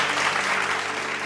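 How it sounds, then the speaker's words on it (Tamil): Audience clapping at a Tamil Sunday church service, a steady dense round of applause close by that fills the whole moment without any voices over it. "கைத்தட்டுங்க ஒருத்தர் அவருக்கு"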